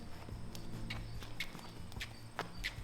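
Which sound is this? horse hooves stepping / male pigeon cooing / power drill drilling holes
horse hooves stepping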